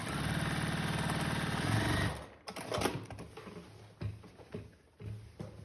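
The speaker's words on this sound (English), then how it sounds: "I crimp that seam the whole entire time while I'm sewing." A sewing machine runs steadily while stitching a fabric seam for a quilt block, giving a continuous mechanical whir for about two seconds. It then stops and gives way to softer intermittent handling clicks and rustles.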